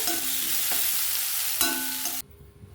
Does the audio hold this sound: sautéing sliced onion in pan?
yes